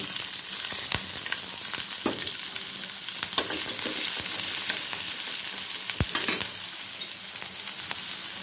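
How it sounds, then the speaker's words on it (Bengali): Onions and green chillies fry in hot oil, giving a steady, close crackling sizzle with occasional scrapes and taps of a spatula as they are stirred, with no talk. "পেঁয়াজ আর কাঁচামরিচ ভেজে নেবো"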